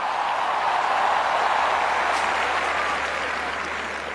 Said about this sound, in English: It's a huge round of applause.